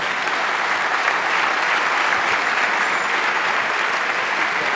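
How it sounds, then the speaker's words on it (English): Sustained applause fills a conference hall at a hacker congress talk, a thick, even roar of many hands clapping steadily with no break from start to finish. "give them a round of applause"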